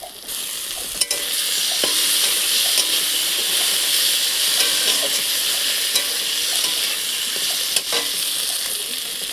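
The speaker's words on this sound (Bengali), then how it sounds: "ভালো করে টমেটোটাকেও ভেজে নেব" Chopped tomatoes fry with garlic paste in a little oil in a pan, a loud, steady hiss and sizzle broken by occasional spatula scrapes and taps, close up and without talk.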